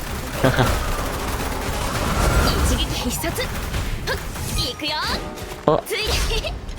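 Rapid bursts of gunfire from Chixia, a pistol-wielding character in the Wuthering Waves action game, with crashing impacts during a Depths of Illusive Realm fight, dense and continuous over a talking player voice.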